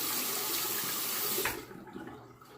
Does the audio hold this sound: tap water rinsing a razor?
yes